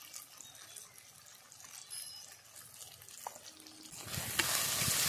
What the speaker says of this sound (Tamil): வெங்காயம் தக்காளி நல்லா வதக்கிருச்சு.